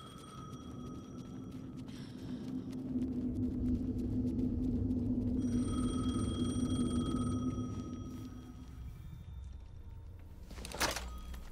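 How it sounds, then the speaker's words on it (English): A telephone rings in the video game Alan Wake 2, a sustained tonal ringing over a low rumbling ambience that swells and fades across several seconds, followed by a short sharp burst near the end. "The phone again."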